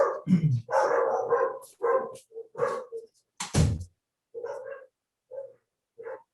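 Several dogs bark in bursts behind a door, sharp and fairly close, with short yips and pauses between the barks.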